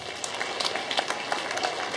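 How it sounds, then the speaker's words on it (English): Congregation clapping at a church deliverance service, a dense, steady patter of many hands filling the room at moderate loudness with no clear break. "Oh, clap for Jesus Christ."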